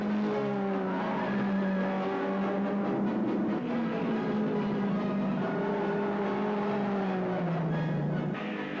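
Early Grand Prix racing cars lapping the East London circuit through the S-bends toward Beacon Bend, engines whining steadily and rising and falling in pitch as they pass, loud and continuous with no talk.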